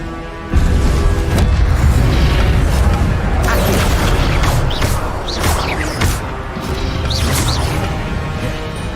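Incendio fire spell from Hogwarts Legacy bursting into a loud, close roaring blaze after a brief quiet start, with crackling, whooshing flame sounds that persist throughout.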